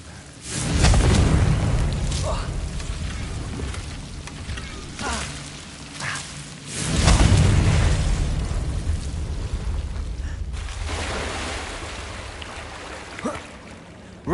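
Confringo blasting spell explosions in the game Hogwarts Legacy, two big rumbling booms near the start and middle, each decaying into a crackling, rain-like wash that tails off.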